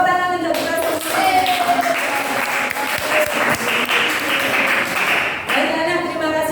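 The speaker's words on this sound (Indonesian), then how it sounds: "Tepuk tangan untuk kita semua." A primary school class of students claps together in a classroom, with lively continuous applause mixed with children's voices and some chatter at the start and end.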